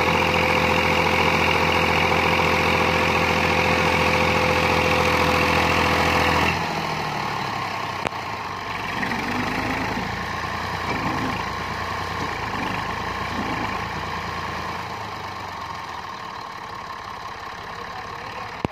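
A Massey Ferguson 240 tractor in Pakistan labors to haul a loaded trolley, its diesel engine droning close and loud with a strong humming tone, then the pitch drops and the engine settles into a rougher, lower rumble for the rest.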